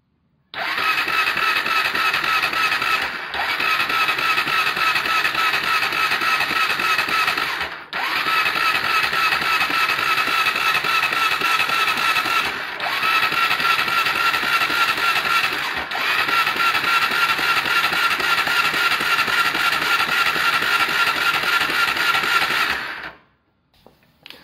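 A Honda Tiger Revo motorcycle engine, kick-started, runs loud and close in a steady buzzing idle. It cuts out briefly several times and picks up again, then dies near the end.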